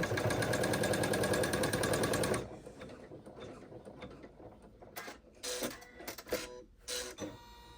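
An embroidery machine runs a tack-down stitch, a fast, even mechanical rattle that stops after about two seconds. It is followed by quieter clicks and whirs from the thread cutter and other parts of the mechanism.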